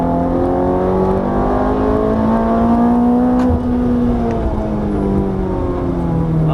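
A Ferrari F430 on a racetrack accelerates hard at full throttle, its engine note loud and close, with steady rising harmonics that climb and level off through the run, no voices over it.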